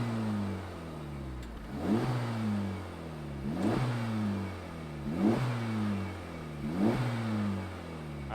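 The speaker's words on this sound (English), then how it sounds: "let's go ahead and fire up my Civic Type R and see if you hate the sound as much as I do" 2023 Honda Civic Type R FL5 engine revving repeatedly, four evenly spaced blips rising and falling over a steady idle, close and clear with no talking.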